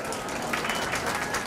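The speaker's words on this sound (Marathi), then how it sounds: "त्याबद्दल तुम्ही स्वतःसाठीच टाळ्या वाजवून घ्या." Audience applause at a women's association gathering in Chalisgaon, heard as a faint, steady wash of many hands clapping throughout, with no voices over it.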